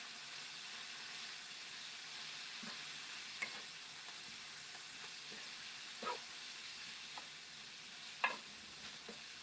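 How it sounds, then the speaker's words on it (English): Vegetables fry quietly in a pan beside fish for tacos, a faint steady sizzle broken by several soft scraping clicks of stirring spread across the stretch, with no talking. "Okay, I'm going to stir my veg over here."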